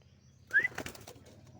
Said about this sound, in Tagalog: So, papalipadin na natin yung kalapati natin.